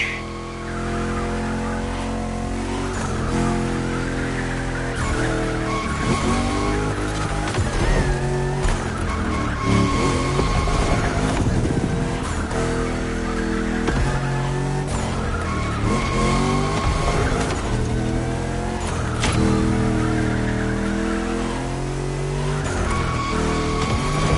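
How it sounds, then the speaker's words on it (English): A car drifts through long slides, its tires squealing and skidding over a loud, revving engine, with the screech rising and falling in repeated waves throughout. "At this rate, you're going for the eternal drift."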